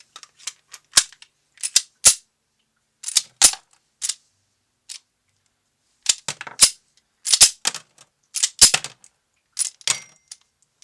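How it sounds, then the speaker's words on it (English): Sharp metallic clicks and snaps of five rounds being pressed into a Kel-Tec PF9 pistol magazine and then cycled through the slide, arriving in scattered bursts with quiet gaps between them. "I'm just going to load all 5 of these rounds into the magazine, and then I will feed them through"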